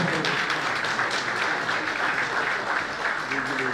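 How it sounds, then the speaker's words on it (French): At an awards ceremony in Côte d'Ivoire, an audience keeps up a steady wash of applause, moderately loud and diffuse, with voices faintly audible beneath it. "Applaudissements nourris en grand."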